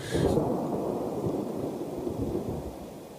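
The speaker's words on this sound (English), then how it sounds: "It was a huge lightning bolt. That would be towards the southeast." Rumbling thunder from a huge lightning bolt to the southeast, a low sustained roll that fades slowly over several seconds, fairly distant, with a faint rain-like hiss and no voices.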